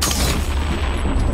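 A loud, dense explosion in the game F.E.A.R. Perseus Mandate rumbles for over a second, heavy low-end boom with crackling debris, no voices over it.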